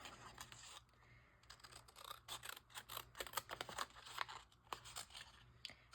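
Scissors fussy-cutting small paper pieces for a purple and teal witch-themed craft, heard as close, quick crisp snips and rustling paper in irregular bursts, with no talking.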